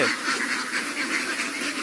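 A flock of ducks on a small duck farm quacks in a steady, overlapping chorus, moderately loud and continuous with no voices.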